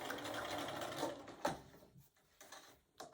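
A sewing machine stitching a patchwork fabric mug rug made from scraps, running in a steady whirring burst that stops, followed by a couple of sharp mechanical clicks, close and fairly quiet.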